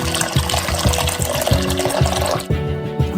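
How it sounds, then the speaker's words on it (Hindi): Two liters of boiling water poured into a pot of fish and oyster sauce, fish powder and cherry tomatoes for a rich crab broth, a steady, loud gushing splash that continues throughout. "उबलते पानी के 2 लीटर डालो।"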